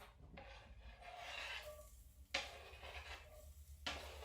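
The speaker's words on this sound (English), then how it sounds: "please remember to scrape the cutting board off using the spine of the knife" A knife spine scrapes across a cutting board in a few rough, rasping strokes, fairly quiet and close, with sharper scraping bursts near the end and no talking.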